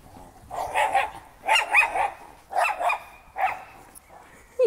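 A dog barks four times in a steady rhythm, moderately loud and fairly close, followed by a short pause, with no talking.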